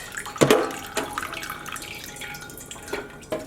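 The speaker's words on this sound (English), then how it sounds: "I'm now going to remove it from the pot. Let some of that dye drain out." Dye draining and dripping from a cooled, twisted hank of cotton yarn back into a stovetop pot, with a few distinct splashy drips and a faint steady trickle between them.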